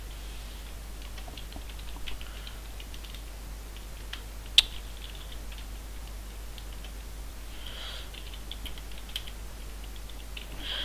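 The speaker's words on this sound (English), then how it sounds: "I know I'm not typing correct" A computer keyboard clicks in irregular bursts of light taps at a steady, moderate distance, quiet against a low hum, with one sharper isolated click.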